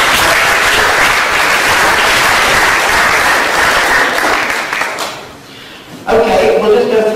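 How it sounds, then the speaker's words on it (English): An audience claps steadily at a physics lecture on relativity. The dense, even applause is close and loud, then fades out about a second before the end, when a voice begins speaking. "give them a round of applause"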